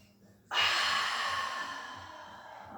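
A slow, steady exhaling breath during a mat pilates breathing exercise, starting abruptly after a quiet moment and holding as a long, airy rush that gradually softens, close to the microphone with no talk.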